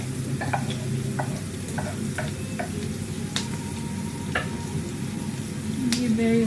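Garlic sizzles and crackles in a hot pan while being stirred, a steady frying hiss with scattered light clicks of a utensil, close by, with faint talk in the background.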